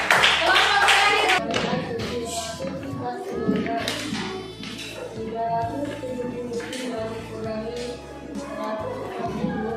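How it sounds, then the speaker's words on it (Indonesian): A classroom of students claps for a student group after its presentation, producing scattered, uneven hand claps and taps mixed with voices talking over them. "tepuk tangan untuk kelompok 4"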